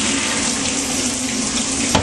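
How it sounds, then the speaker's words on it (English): Running water pours steadily into and through a coffee machine during rinsing, a continuous close splashing wash with a brief louder gush near the end. "So, rinsing it out again,"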